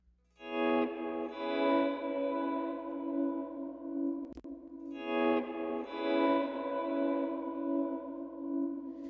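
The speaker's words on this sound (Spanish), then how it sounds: "escuchamos mucho ese efecto de la modulación" Two strummed electric guitar chords, each ringing and shimmering with a wavering chorus modulation, separated by a brief sharp click in the middle.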